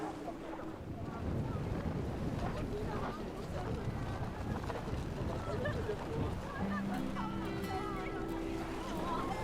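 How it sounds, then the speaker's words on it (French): Wind gusting at a Swiss mountain viewpoint facing the Jungfrau, a continuous rushing roar buffeting the microphone, with a voice speaking briefly near the end. "C'est venteux."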